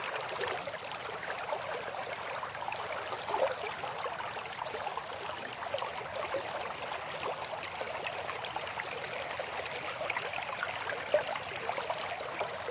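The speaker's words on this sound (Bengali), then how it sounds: "প্রচুর পরিমাণে স্রোত" Strong floodwater current rushes past in a continuous, steady wash of flowing water at moderate loudness, with no voices.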